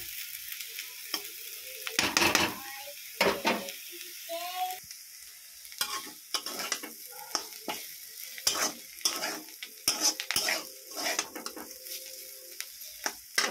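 Cauliflower chorchori fries in a pan as the water cooks off, with a soft sizzle under frequent scraping and clattering strokes of a spatula stirring the vegetables, close and irregular.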